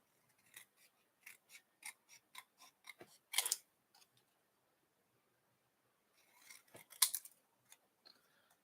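Scissors snipping paper for an embossing craft, a run of quiet, crisp cuts in quick rhythm, a pause, then a second cluster of snips close by with no talking.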